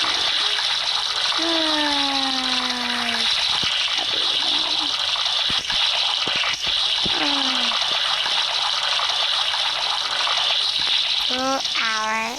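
Shower water runs steadily while someone bathes, a continuous hiss of spray under a person speaking and exclaiming in short bursts.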